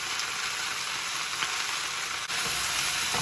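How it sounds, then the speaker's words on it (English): Colorful mixed vegetables with bell pepper, seasoned with pepper and salt substitute, sizzle steadily in a hot pan. The frying hiss is close and continuous, with a brief dip near the end. "Potentially you may need a tea spatula to stir fry them."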